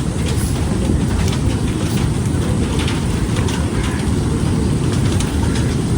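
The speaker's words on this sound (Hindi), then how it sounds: "अचानक से बारिश शुरू हो गई काफ़ी ज़ोरों की" Heavy rain pours down steadily near a river in coastal Kenya, a dense, unbroken hiss and patter of close, loud rainfall with no voices.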